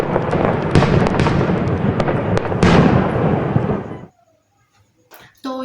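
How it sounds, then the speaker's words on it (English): Fireworks bursting at a Diwali celebration, a dense loud crackling barrage of pops and booms for about four seconds, then a sudden drop to near silence before a few faint sounds. "people watch their troubles symbolically go up in flames and burst in an exhilarating display of fireworks"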